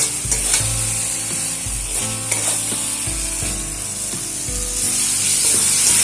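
Jackfruit curry cooking with mutton fat sizzles steadily in a pan, with repeated scraping stir strokes and low thuds from the spoon over a constant loud fry.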